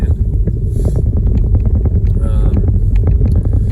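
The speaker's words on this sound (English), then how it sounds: "It's mostly that dang wind that's making it cold." Strong wind buffets a microphone outdoors on an antelope hunt in near-freezing weather, a loud, steady rushing roar with gusty low rumble throughout.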